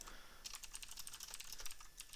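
Quiet rapid typing on a computer keyboard while playing the space game Startron, with a quick run of light, crisp key clicks close to the microphone and no talking.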